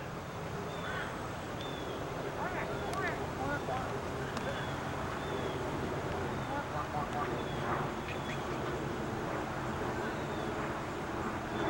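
Ducks quack on and off over a steady outdoor background near water, with scattered calls mixed in and people talking throughout.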